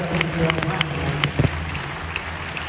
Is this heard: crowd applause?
yes